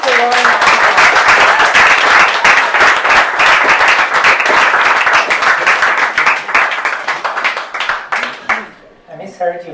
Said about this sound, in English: give a warm round of applause to Lauren